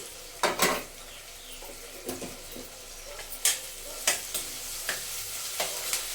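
Onions fry with a quarter teaspoon of ginger garlic paste in a pan, a steady soft sizzle punctuated by several sharp clinks and scrapes of a spoon against the metal, close and without speech.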